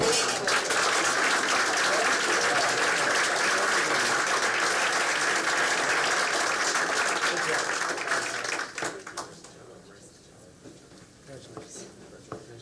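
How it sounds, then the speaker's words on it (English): An audience at a school board meeting gives a round of applause, steady loud clapping for about nine seconds that then fades to scattered claps and quiet talk. "And another round of applause."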